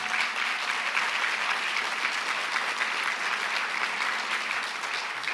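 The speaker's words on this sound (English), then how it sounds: "can I please ask for a round of applause for Grant, for Elliot, for the OCE team." A crowd at a quarterly meeting of a police department's Asian American Pacific Islander alliance gives sustained applause, an even wash of many hands clapping at moderate distance with no talk over it.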